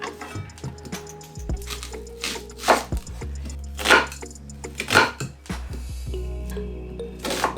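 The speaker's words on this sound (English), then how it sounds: "And now I will chop my onions in big chunks." A knife chops onions into big chunks on a board, landing as several loud, uneven thunks spaced about a second apart, with handling noises and low hum between strikes.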